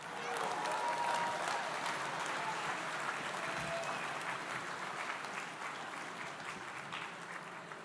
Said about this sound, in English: give yourselves a better round of applause than that